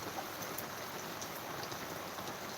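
Rain falling in Dumlav village in Pardi taluka during an unseasonal late-October shower, a soft steady hiss of drops on surfaces, faint and even, with no talk.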